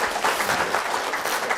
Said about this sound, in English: let's give Richard another round of applause for that